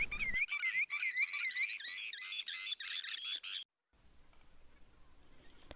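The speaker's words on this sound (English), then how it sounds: "You can hear sandpipers, yellowlegs, and gulls in the background." Dense, continuous high-pitched calls of sandpipers, yellowlegs and gulls chatter together at a shoreline lake for several seconds, then cut off abruptly to a quieter background hiss.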